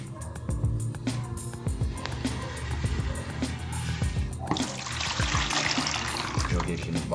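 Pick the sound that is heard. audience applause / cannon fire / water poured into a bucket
water poured into a bucket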